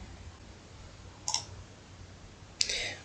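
A computer mouse clicks twice to run a program, two short crisp clicks about a second apart against a quiet room hum.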